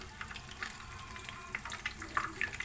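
Dynamite lumpia spring rolls frying in oil until golden brown, a soft, quiet bubbling sizzle with small crackles popping up now and then.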